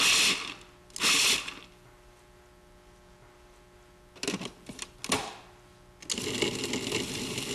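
A Cuisinart Classic Series food processor chopping nuts buzzes in two quick pulses, goes quiet with a faint hum, then clatters and whirs again in a longer run.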